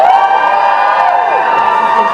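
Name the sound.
crowd cheering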